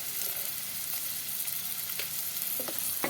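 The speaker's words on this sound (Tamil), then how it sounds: "இப்போ நான் வந்து வெங்காயம் வதக்கும் போதே அதுக்கு தேவையான அளவு உப்பையும் சேர்த்துடுறேன்" Chopped onion frying with salt in a pan for a lunch tamarind curry, a dense, even hiss of sizzling oil with a few light clicks of stirring near the end, no speech.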